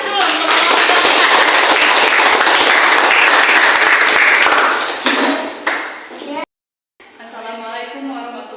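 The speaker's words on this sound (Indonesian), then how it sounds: "Kita kasih aplaus dulu untuk teman-teman." Students in a classroom applaud their classmates with dense, loud clapping that swells and then trails off abruptly, followed by a brief silence before a voice begins speaking.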